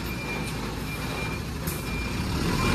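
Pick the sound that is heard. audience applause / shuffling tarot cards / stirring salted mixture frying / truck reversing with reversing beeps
truck reversing with reversing beeps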